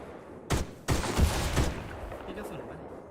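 Gunfire from the video game Project Insect: two sudden, loud cracking bursts, about half a second apart, each trailing off into a rumbling, echoing tail over low background noise.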